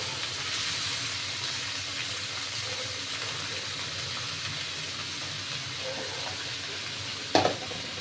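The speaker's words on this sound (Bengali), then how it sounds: "নারকোলটা একটু ভাজা হোক, তেলের নিচেটা থাকতে থাকতে ভাজা হয়ে যাবে" Grated coconut, potato and banana flower fry in oil in a pan, giving a soft steady sizzle and hiss throughout, with one brief clatter near the end.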